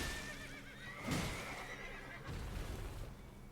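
A horse in a video game neighs in a loud, shaky whinny near the start, followed by a softer snort and some hoof movement.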